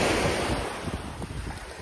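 Sea waves wash along a shore in Spain, a steady broad roar of surf mixed with strong wind buffeting the microphone, loud and continuous with no voices.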